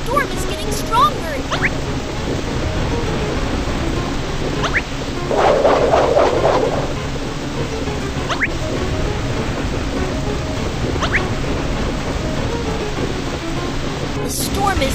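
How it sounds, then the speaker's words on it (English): A cartoon storm at sea roars with steady heavy rain and wind around a ship, a rumbling swell of thunder in the middle and a couple of sharp cracks, loud and continuous throughout. "Watch out! The storm is getting stronger!"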